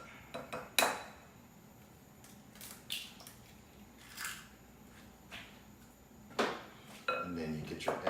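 An egg mixed into a crabcake mixture in a bowl, soft squishing and occasional clinks of a utensil against the bowl in irregular bursts, close and fairly quiet, with a person talking near the end.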